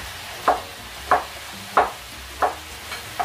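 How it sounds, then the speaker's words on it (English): A knife chops pak choy and spring onion on a board, striking five or six crisp, evenly spaced blows about two-thirds of a second apart, close up and fairly quiet, with no talking. "So I'm chopping now pak choy and spring onion."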